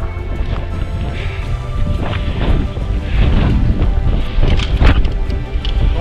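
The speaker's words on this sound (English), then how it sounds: "All of a sudden it gets windy out." Gusty wind on an outdoor hiking trail, a loud continuous buffeting rumble across the microphone that swells and surges, with no clear talk.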